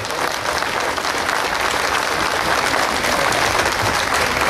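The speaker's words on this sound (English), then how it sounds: "give these guys a round of applause" Crowd at a welcome back rally applauding legislators: dense, loud, continuous clapping with a faint murmur of voices, holding steady throughout.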